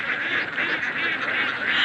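A flock of noisy pet ducks kept in a backyard pen quacks continuously and loudly at close range, their overlapping calls forming a dense, unbroken chorus.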